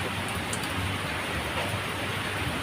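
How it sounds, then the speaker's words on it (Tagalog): Heavy rain falls in a steady, even hiss, fairly quiet and continuous, with no voices. "Malakas namang uwan."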